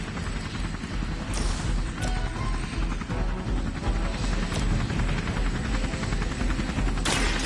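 A helicopter in the video game Marvel Midnight Suns thrums steadily and loudly throughout, its rotor noise dense and continuous, with a few sharp impact cracks layered on top.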